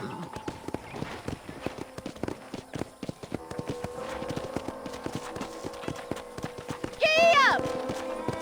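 Horse hooves clip-clop at a steady trot on a ranch in the video game Red Dead Redemption, an even rhythmic beat running throughout, ending with a loud whinny from the horse.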